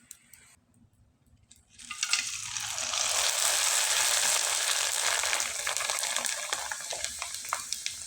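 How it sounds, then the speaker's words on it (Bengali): Gram flour chips dropped into a kadai of hot oil, starting as a quiet lull and then erupting into a loud, steady broadband sizzle that holds and slowly eases, with no talking. "এই চিপসগুলো যখন ভেজে নেবেন তেলের পরিমাণটা একটু বেশি থাকলে পুরো কড়াই কিন্তু ভর্তি হয়ে যাবে"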